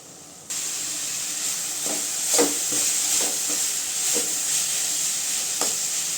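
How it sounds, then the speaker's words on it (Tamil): Mixed spinach greens fry in a pan with a steady steamy hiss, while a spoon scrapes and taps through them now and then. The sound is close and continuous, with no talking. "நல்லா வதங்கட்டுங்க கீரை அப்பப்போ கிண்டி விட்டுக்கோங்க"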